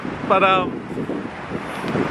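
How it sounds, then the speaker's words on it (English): Blustery wind buffets the microphone in a loud, rumbling rush, with a man's brief word near the start. "Sorry about the wind, she's a bit windy here"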